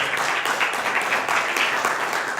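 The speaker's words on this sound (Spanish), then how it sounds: "Denme un aplauso al Señor por la vida de ella." A church congregation applauds during a Spanish-language sermon, a dense, steady wash of many hands clapping at once that holds at an even level throughout, with no speech over it.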